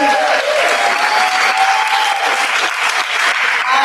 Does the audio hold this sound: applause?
yes